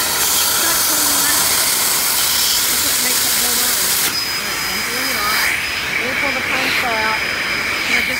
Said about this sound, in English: And now you are going to be with me while I vacuum.